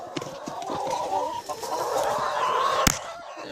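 Chickens cluck and murmur inside a coop on a Minnesota farm during an April snowstorm, a steady close chatter of several birds with sharp clucks and one short louder squawk.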